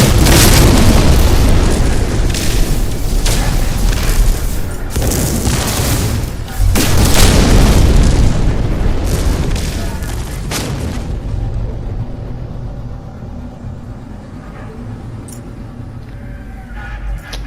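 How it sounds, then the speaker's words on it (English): Loud overlapping explosions and booming blasts in a space battle in No Man's Sky as a pirate ship is fired on, dense and continuous at first, then fading to a lower rumble. "Make sure you're actually shooting the pirate ship."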